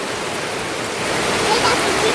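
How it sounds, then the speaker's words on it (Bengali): Heavy rain pours down outdoors onto a courtyard and a parked car, a loud, dense, continuous wash of noise that swells slightly toward the end. "দেখো ভালো জোরে বৃষ্টি হচ্ছে, দেখো বিশাল জোরে বৃষ্টি হয়ে গেছে।"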